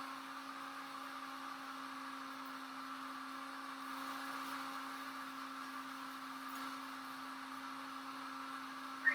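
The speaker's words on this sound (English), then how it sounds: "We're at 201 degrees on our blender" A heated blender hums at a steady, even pitch while cooking marinara sauce, a constant motor drone with no breaks or voices.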